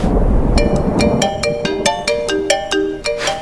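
A phone ringtone plays at midnight as a loud, close melodic sequence of bright electronic tones, running for several seconds over a low background hum.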